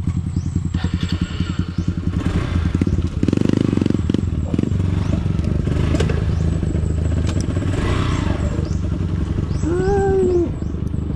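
A motorcycle engine drones and pulses steadily on a downhill dirt trail ride, loud and close, with clattering and a brief rising whine near the end.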